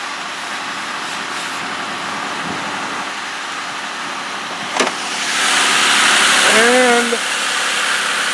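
A 2008 Ford Escape with a 3-liter V6 and automatic transmission idles after a cold start, a steady low rumble that swells slightly toward the end, with a brief voice at the start.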